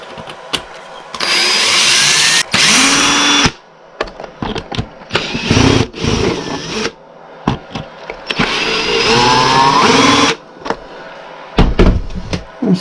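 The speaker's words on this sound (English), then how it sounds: "I'm surprised I could get all 4 of them screws out of there with that power tool." A power tool driving out screws on a Traxxas X-Maxx RC truck during a spur and pinion gear replacement, heard as several loud, bursty whirring runs separated by brief pauses and small clicks.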